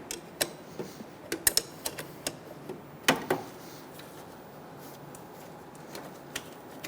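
A 17mm wrench works a side bolt loose on a 2003-2007 Honda Accord engine during a timing belt and water pump job, giving scattered metallic ticks and clicks with a couple of sharper cracks, close by and with no talking.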